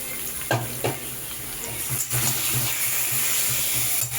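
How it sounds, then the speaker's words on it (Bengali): Steady sizzling and crackling of mutton frying in hot oil in a kadai for mutton kosha with potatoes, with a few stirring scrapes and clatters, close and fairly loud throughout. "এইবার আমি এই মাংসটাকেও এর মধ্যে দিয়ে দিচ্ছি"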